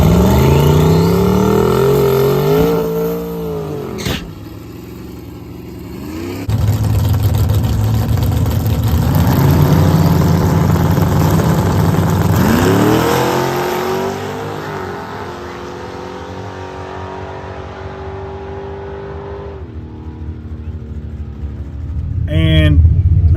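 A Dart-engined drag race car on race gas idles with a lumpy rumble, then revs hard and launches into a loud accelerating pass with rising engine pitch through the gears, fading away before a brief rev near the end.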